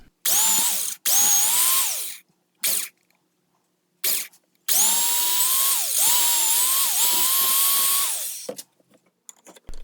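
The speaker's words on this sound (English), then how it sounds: "Here I'm drilling a hole for the blade tang." A power drill boring a hole in steel for a knife's blade tang whines in several loud bursts separated by pauses, its pitch dipping under load as it bites into the hard metal.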